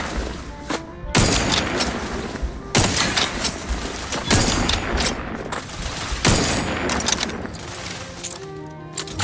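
Rapid bursts of gunfire in the Outer Worlds 2 video game, loud and close, coming in several dense volleys separated by brief pauses, with booming impacts and rattling automatic fire.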